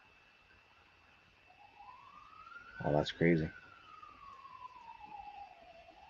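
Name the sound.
many emergency vehicle sirens outside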